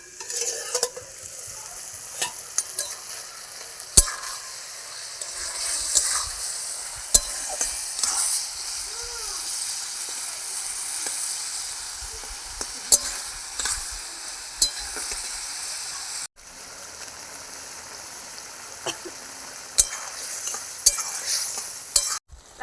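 Teasel gourd and slit green chillies cooking in a pan, a continuous bright sizzle with repeated sharp scrapes and taps of a spatula stirring, close and fairly loud, with a brief break partway.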